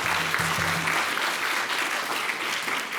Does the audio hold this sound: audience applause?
yes